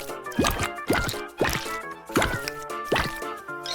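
Bubbles on a homemade paper and cardboard fidget toy being pressed, giving five crisp, evenly spaced plops or pops close up, with faint background sounds between presses.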